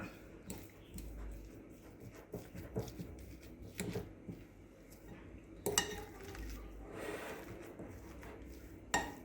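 Pilchards are mashed into a paste with a fork in a bowl, giving repeated soft scraping and clinking of metal against the dish at a steady, irregular pace, close and fairly quiet.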